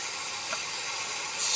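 Steak sizzles in a frying pan at a campsite in the Peak District, a steady bright hiss that stays close and loud from start to finish with no talking.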